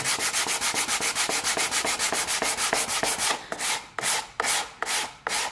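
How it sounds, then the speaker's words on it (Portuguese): A sanding block rubs across a glued wooden box in quick, steady back-and-forth strokes, then slows into several longer separate passes; close, dry and loud with no talk. "E a gente vem com um bloquinho de lixa."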